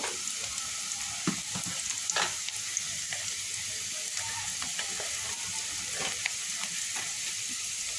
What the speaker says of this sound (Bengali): একটু নেড়ে চেড়ে নিচ্ছি